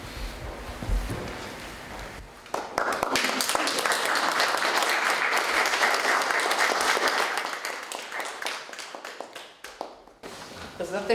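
An audience applauds at a poetry collection launch in Sremska Mitrovica, a steady wash of many hands clapping for about eight seconds before it thins and tapers off, with a few brief sounds at the start.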